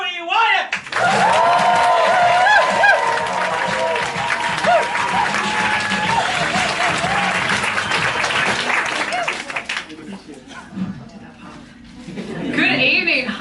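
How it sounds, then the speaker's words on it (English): Audience at a comedy night at Edinburgh's Bright Club breaks into loud, sustained applause and cheering as a performer is welcomed on stage, the clapping dense and close before fading near the end. "Clap and cheer for Zoe Wyatt"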